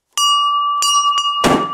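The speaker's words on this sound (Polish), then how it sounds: "A, dzwonek!" A doorbell rings loudly and close, three bright ringing dings at an uneven pace, then a sharp noisy clatter at the end.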